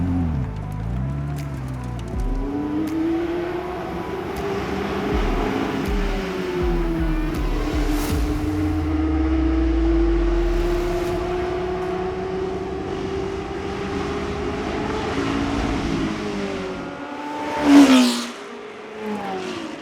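A McLaren Senna supercar accelerates hard, its engine note climbing steadily and staying loud and close throughout, with a sharp burst of noise near the end and no talk over it.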